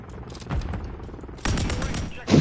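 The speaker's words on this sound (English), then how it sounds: "Is that the dum dum dum dum dum gun?" Gunfire in Call of Duty: Modern Warfare 3 comes in bursts of rapid automatic shots, with a louder volley partway through and a final close blast.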